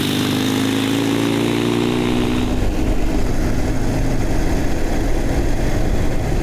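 A motorcycle engine roars steadily while cruising at 45 to 50 mph in fog, joined by heavy wind rush, loud and close throughout.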